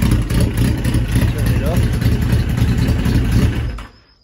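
A 1989 Yamaha XJ 900 motorcycle engine runs close by with a loud, steady rumble for several seconds, then is switched off and cuts out abruptly into near silence.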